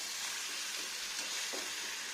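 Eggs stir-fried with spices in a pan give off a steady, dense sizzle that hisses continuously throughout, with no voices.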